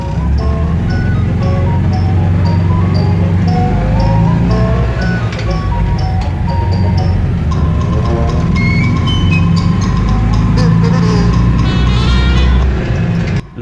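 A Citroën 2CV AK400 van drives along, its small engine humming loud and steady throughout with rattling and varying pitch as it runs.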